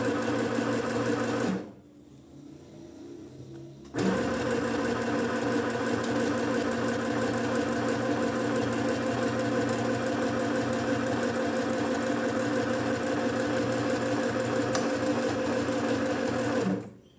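Sewing machine stitching a bag seam, a steady loud mechanical whir running almost the whole time, pausing briefly near the start before resuming and running on alone.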